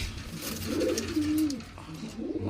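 A female Moshaldom pigeon, a crested fancy breed in a home loft, gives one soft, close cooing call with a rising and falling bend, followed by a brief second coo, with no one speaking.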